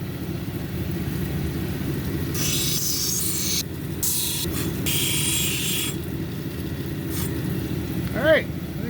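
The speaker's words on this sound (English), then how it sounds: "So when I'm on these hard wheels, don't stop or you'll grind a flat spot into them." A Mexican red lace agate cabochon being ground on hard lapidary wheels, a continuous motor whir with bursts of high gritty grinding as the stone is pressed to the wheel, close and fairly loud.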